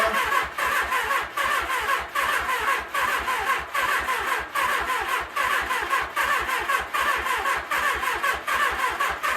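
A 1978 Suzuki GS750 motorcycle engine, an abandoned project bike, cranks steadily with a fast, even rhythm of starter-driven chugs, loud and close, continuing without catching for the whole stretch.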